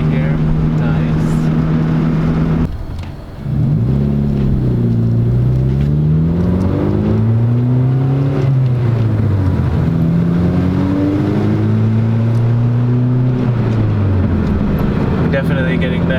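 A Mazda 3 with a six-speed manual gearbox accelerates through the gears, its engine droning loudly from inside the cabin, dipping briefly at a shift and then rising and falling in pitch through repeated climbs, with people talking over it.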